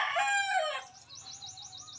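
A roundhead gamefowl rooster crows loudly and close by, one long cock-a-doodle-doo in the first second. Softer chirping and clucking from other birds follow over a quiet rural background.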